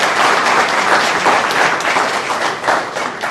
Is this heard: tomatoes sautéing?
no